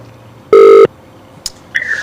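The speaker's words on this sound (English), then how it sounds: "We're ringing." A short, loud steady telephone tone pulses once, followed by a brief click and the start of another higher electronic tone.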